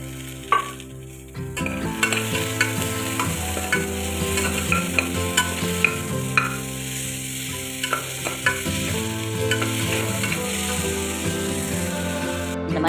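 Tomato with ginger garlic paste sautéing in a pan, a continuous close sizzle with repeated scraping stirs of a utensil against the pan throughout.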